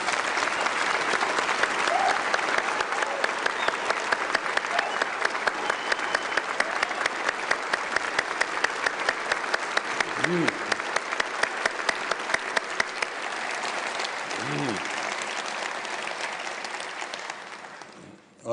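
An audience applauds Vietnam veterans at a Department of Defense ceremony, sustained loud clapping from a large crowd that carries on steadily for many seconds before tapering off at the end, with a faint voice briefly heard through it.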